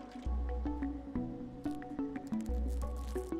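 A cat laps water in the Stray video game, giving a run of soft, wet squishing and dripping sounds in a steady rhythm, close and fairly quiet.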